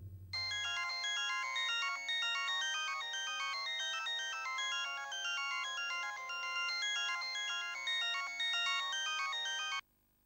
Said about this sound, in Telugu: రేయ్ రింగ్ అవుతుందిరా.